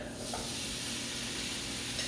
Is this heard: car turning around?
no